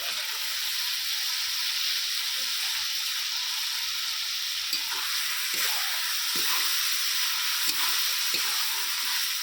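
Marinated chicken is added to a pan of spiced masala frying in oil, giving a loud, constant hissing sizzle with occasional faint stirring knocks underneath, and no talking throughout.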